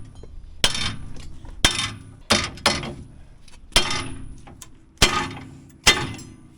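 Hammer blows striking the steering knuckle during a Dana 44 axle swap on a 2016 Jeep Wrangler JK, seven sharp metallic clanks at uneven intervals, close and loud, each ringing briefly before the next.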